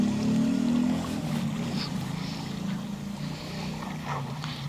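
A video game boat race plays a steady engine drone with splashing water and wind-like rush, continuous and moderately loud, easing slightly after the first second, with no speech heard.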